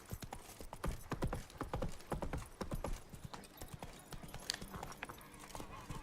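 Horse hooves clip-clopping in The Witcher 3: Blood and Wine, a steady rapid gallop of close, loud hoofbeats running throughout, with a brief whinny and light game ambience underneath.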